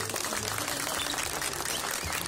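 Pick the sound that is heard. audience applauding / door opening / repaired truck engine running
audience applauding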